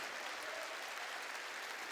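A church congregation claps together during a sermon, a faint, even patter of many hands heard from a distance and sustained throughout.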